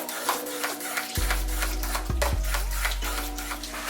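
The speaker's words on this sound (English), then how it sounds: "we're gonna mix that up." A small electric mixer whirs on and off as it blends banana fritter batter with sugar and vanilla, humming steadily with brief stops and restarts over rhythmic scraping.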